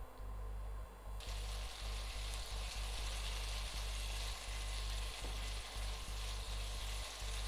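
Tomato paste sautéing with onions in a pan gives a steady, close sizzle and fry that runs throughout, with soft stirring scrapes scattered through it and no voices.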